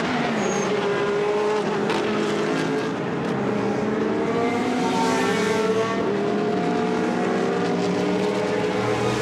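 GT race cars from the Blancpain GT Sports Club main race at Misano roar past in a continuous loud blend of revving engines and shifting pitch, with multiple cars layered together and no talking.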